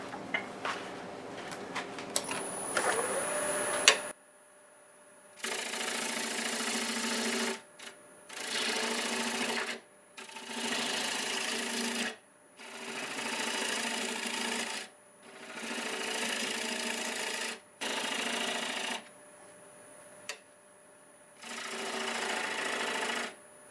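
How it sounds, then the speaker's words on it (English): A wood lathe cuts a tenon on a birch blank in repeated bursts of a few seconds each, a broadband rasping scrape broken by short pauses, fairly loud and close with no talking. "I'm going to cut the tenon on, see what it looks like up here"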